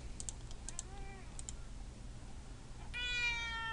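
A cat meows close by, first a short wavering call and then a louder drawn-out meow near the end, with scattered keyboard clicks underneath and no speech.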